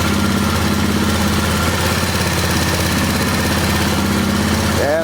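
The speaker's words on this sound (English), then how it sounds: "Starter gear is kind of loud." A Polaris 325 Magnum four-wheeler in trashed condition runs at a steady idle, a loud, close mechanical engine drone that holds evenly throughout with no talk over it.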